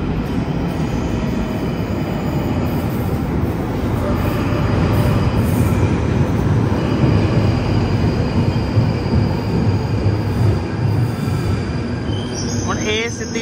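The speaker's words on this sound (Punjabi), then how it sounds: "ਤੋ ਟ੍ਰੇਨ ਆ ਗਈ ਟਾਈਮ ਨਾਲ ਹੀ" A train pulls in at a station platform, a loud continuous rumble of wheels and carriages with metallic squeal toward the end, close by.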